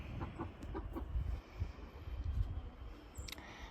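Chickens, laying hens, cluck and murmur close by in short, irregular bursts over a low background rumble, with a faint higher chirp near the end.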